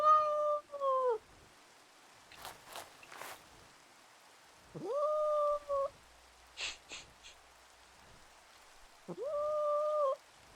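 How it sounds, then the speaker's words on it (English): An unhappy cat meows in three drawn-out, wavering cries spaced a few seconds apart, close and fairly loud, with soft rain-like patter and faint noises in the gaps. "That's not a happy cat."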